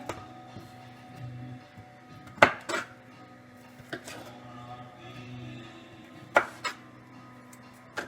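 A knife trimming peeled garlic cloves on a board, a few sharp clicks and taps of the blade striking the surface, spaced irregularly over a quiet kitchen background.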